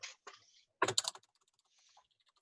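Quiet typing on a non-mechanical computer keyboard: a few soft taps, then a short burst of clustered keystrokes, trailing off into faint scattered clicks.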